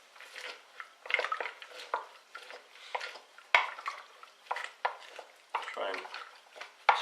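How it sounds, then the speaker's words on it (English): Raw broccoli and watercress soup ingredients being mushed and squashed in a bowl, close, irregular wet squelching and scraping strokes with clinks of utensil against the container, no talk. "And then what I'm going to try and do is mush that about a bit."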